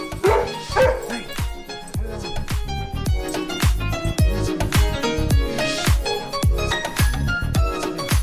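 Several dogs bark and yip in rapid, overlapping bursts, loud and close, nonstop throughout with a bit of whimpering mixed in.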